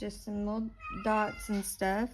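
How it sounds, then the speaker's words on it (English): A cat meows several times in short, rising calls close by, while a person speaks quietly over and between the meows indoors during a coloring session. "I apologize for my cat in the background."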